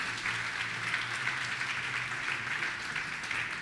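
A church congregation claps during a sermon, a dense, steady wash of applause that holds at an even level from start to finish with no one speaking over it.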